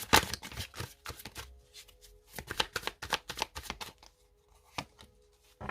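Tarot cards being handled and laid down on a spread during a reading, a series of sharp, close papery slaps and shuffles in irregular bursts, with brief pauses between them.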